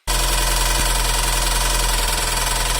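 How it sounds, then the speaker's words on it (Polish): A warmed-up car engine idles steadily and loudly with a constant low rumble and hum, nearby, with no talking. "odpaliłem samochód i samochód brzmiał mniej więcej tak."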